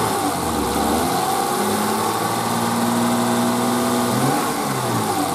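A 1988 BMW E30 engine revving under diagnostic testing, a loud, close mechanical drone whose pitch rises and falls as the revs climb and settle.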